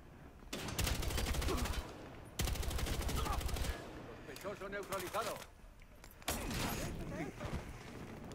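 Bursts of automatic gunfire in the video game Battlefield Hardline during a heist match, long rapid volleys separated by short gaps and scattered single shots, loud and close.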